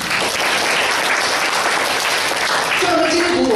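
A church congregation claps hands together, loud and dense throughout, a continuous burst of applause with no break.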